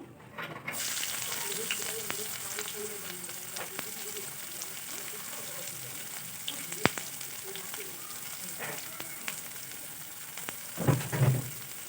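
Chopped onions fry in hot oil with bay leaf, cumin and fenugreek for stuffed chilli fritters, giving a steady close sizzle with occasional scrapes and a louder burst of frying near the end.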